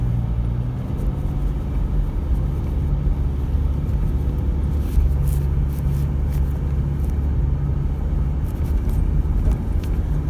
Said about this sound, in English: So we're in the lead vehicle heading up the hill.